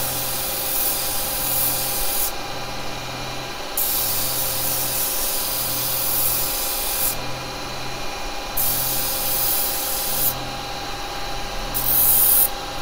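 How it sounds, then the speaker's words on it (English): Abrasive paper rubs steadily against the spinning bottom of a woodturned piece on a lathe, a loud continuous hiss that swells and drops in alternating stretches over the motor's low steady drone, close and without talk. "I'm just going to sand this bottom off on here."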